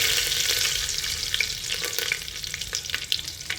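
Curry leaves, mustard seeds and cumin sizzle and crackle in hot oil in a pan while cooking misal, a steady dense frying hiss with scattered small pops, close and fairly loud, no talking.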